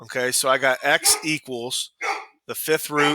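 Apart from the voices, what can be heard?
dog barking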